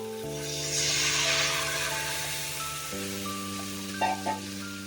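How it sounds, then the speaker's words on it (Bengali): Dal masala frying in a pan as water is poured in, giving a broad steady hiss and sizzle that rises, then settles into a softer simmer with a couple of brief clinks near the end, under a constant low background hum. "তো আমি এবারে জল দিয়ে দিচ্ছি।"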